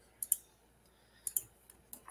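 Mouse clicks on a button, faint and close, coming as quick pairs of light clicks at a steady pace in a quiet room.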